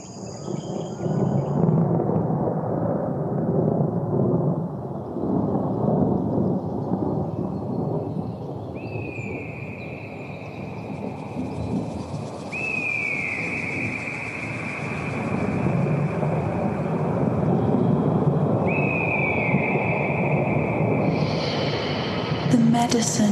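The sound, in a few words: thunder rumbling in meditation recording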